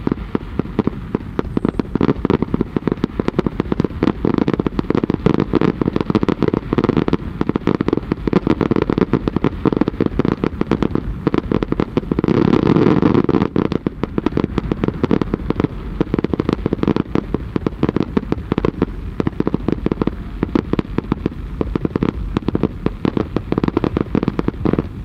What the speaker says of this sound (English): astonishing, the fireworks